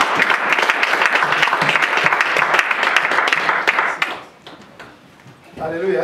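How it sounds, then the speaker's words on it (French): Strong, dense clapping from a church congregation praising God, sustained for about four seconds before fading abruptly, followed by a brief voice near the end. "nous applaudissons très fort pour notre Dieu."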